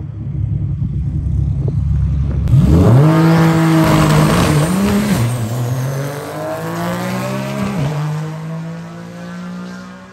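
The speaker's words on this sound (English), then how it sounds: "You probably have seen this GTR 1320. It is fast as all hell." A Nissan GT-R drag car launches at a drag racing event after a low idle, its engine roaring up through the gears with rising whine, loud and close before slowly fading downrange.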